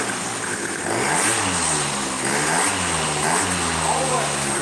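A 1992 Yamaha Jog moped's small two-stroke engine runs steadily near the mic, its pitch rising and falling with throttle blips under a continuous loud buzz.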